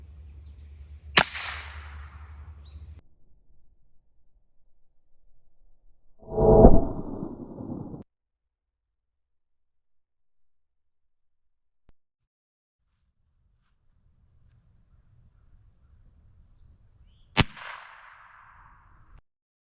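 Subsonic rounds fired from a Little Badger rifle fitted with a 3D-printed flash hider: two sharp, fairly quiet cracks spaced well apart, with a mechanical rattle of the action between them and near silence around.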